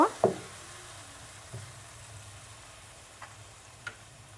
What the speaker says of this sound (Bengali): তারপর মশলাটা আমি খুব ভালোভাবে কষিয়ে নিব